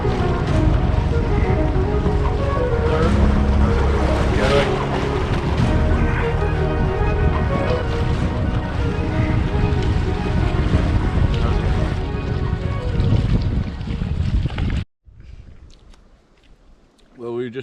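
Big waves crash and wash over the gunwale of a canoe on a windy open-water crossing in northern Manitoba, a loud continuous churning roar of surf and spray that drops away near the end.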